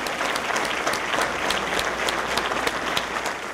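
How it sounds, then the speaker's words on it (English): Steady, dense clapping fills the hall as a crowd applauds at a public safety valor awards ceremony, sustained and fairly loud with no voices on top. "Everyone, please give them another round of applause."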